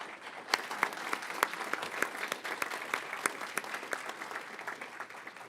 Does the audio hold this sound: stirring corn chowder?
no